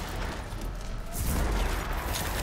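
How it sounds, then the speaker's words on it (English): An explosion in the video game Rage 2 erupts midway as a loud, broad boom and rumble, following a stretch of softer game noise. "Oh, I love that explosion."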